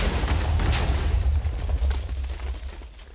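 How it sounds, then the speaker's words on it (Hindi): A loud explosion goes off when a trapped chest is opened in a Nether temple in Minecraft, a heavy rumbling boom that roars continuously for about three seconds with no voices over it. "ये वाली चेस्ट बिना सोचे समझे खोल दिए ना धमाका"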